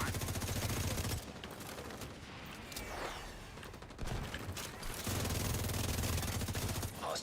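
Sustained rapid automatic gunfire in a video game with a hostage-rescue mission, loud and dense, breaking off briefly in the middle with softer mechanical rattles before the firing resumes.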